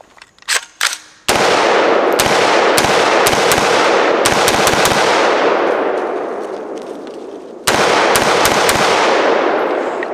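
A PSA PA-15 AR-15 rifle in .223 fires a magazine, starting with a few sharp shots and then a string of loud, close, evenly spaced cracks with ringing reverb between them.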